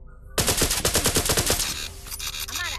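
A sidearm fires rapidly at a target dummy on a firing range in the virtual reality shooter Larcenauts, a fast burst of a dozen or so close, loud shots followed by a dry mechanical click and a whirring effect.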